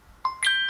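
A KIS-2420 card payment terminal gives a short two-tone electronic chime as a smartphone's back is tapped against it for a Samsung Pay payment, bright and close, with a brief first tone followed by a sustained second one.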